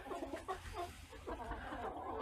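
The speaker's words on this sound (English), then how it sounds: "And Bob is a hen." A backyard hen clucks in short, repeated bursts at close range, with low rumbling background noise throughout and no clear talk over it.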